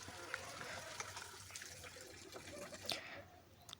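Cups and plates being washed with water in a village home, with a continuous trickle and splash of water and occasional light clinks of dishware, heard at moderate distance beneath faint background voices.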